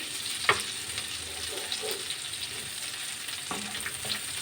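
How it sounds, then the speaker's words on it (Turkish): Tablespoon of butter melting in a pan on the stove, giving a faint steady sizzle with a couple of soft clinks, no talking. "Bir yemek kaşığı tereyağımı güzelce eritiyorum."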